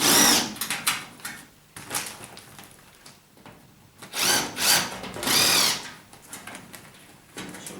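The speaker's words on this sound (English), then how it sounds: "now we'll just remove all the screws around the back here." A power drill backs screws out of the rear panel of a White Knight tumble dryer, several short whirring bursts of varying length separated by pauses and handling noise, close and fairly loud.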